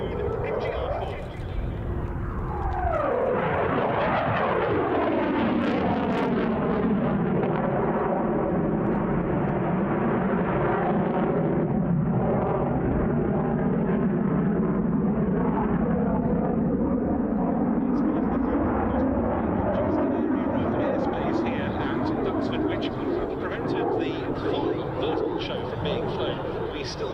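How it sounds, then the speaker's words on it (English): An RAF Eurofighter Typhoon FGR4 fighter jet makes its display departure at the Duxford Battle of Britain Airshow: a loud, sustained jet roar with a sweeping, falling pitch as it passes, holding full strength for the whole stretch. "Coming in to complete his display with a hopefully spectacular departure, Flight Lieutenant David Turnbull with the RAF Eurofighter Typhoon MGR-4"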